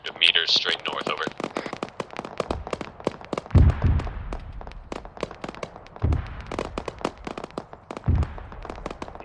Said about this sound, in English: Both squads be advised, you have incoming mortars approximately 500 meters straight north.